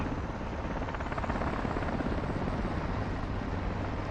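Helicopter in the video game Call of Duty: Modern Warfare 2, a loud steady rotor drone with a low rumble and a fast chopping pulse filling the whole stretch, no voices.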